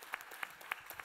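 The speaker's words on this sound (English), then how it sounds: "I'm going to give Jude another round of applause" Brief applause for a festival speaker, a few scattered claps ringing out at a low level in a hall, with no voices over them.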